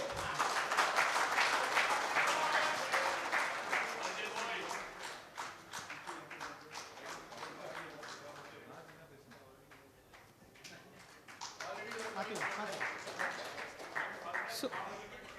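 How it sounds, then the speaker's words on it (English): Dense applause from a technical conference audience fills the clip, steady clapping that fades a little midway then swells again, with some voices mixed in. "Gentlemen, please give a round of applause."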